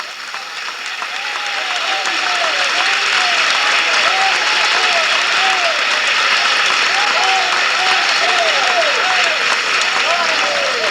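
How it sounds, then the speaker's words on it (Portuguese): A church congregation at a Portuguese-language IPDA service claps for Jesus in a thunderous, sustained ovation that swells over the first couple of seconds and then holds steady and loud, with cheers and shouted voices mixed in. "Eu gostaria de ouvir aqui aquela trovoada de palmas para Jesus"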